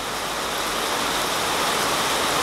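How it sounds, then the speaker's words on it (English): Heavy thunderstorm rain in Coeur d'Alene, Idaho roars as a constant broadband wash, loud and unbroken, with no voices over it. "this rain's just picking up like crazy"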